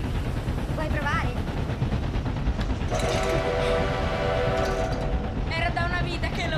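A steam locomotive whistle, sounded by pulling a rope in the cab, blows a loud sustained chord over heavy rumbling and clatter of the train, with brief voices before it.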